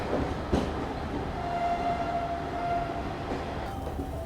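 Garib Rath express train pulling into Chhapra Junction at night, a steady low rumble of rolling wagons with a faint whining tone and occasional clanks, continuous throughout with no talk.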